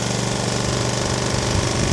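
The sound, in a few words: engine running after being started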